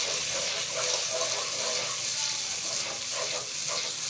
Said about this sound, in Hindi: इसे अच्छे से मिक्स करेंगे और मज़ीद 3 से 4 मिनट तक भून लेंगे